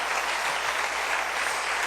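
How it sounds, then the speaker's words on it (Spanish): A church congregation gives a brief burst of dense, uniform applause, many hands clapping together at steady volume with no break. "Denle un aplauso al Rey todavía"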